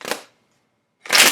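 Tarot cards shuffled by hand in two short riffling bursts, the first fading out, then a pause before a louder, denser second shuffle close up.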